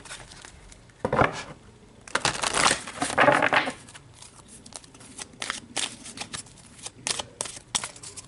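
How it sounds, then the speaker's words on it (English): Tarot cards are riffled and shuffled in several quick papery bursts, followed by softer slides and taps as single cards are pulled from the deck, all close up with no talking. "let's pull a card to get more information about that there"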